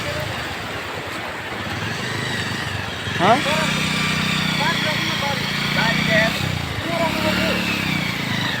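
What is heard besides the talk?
motorcycle engine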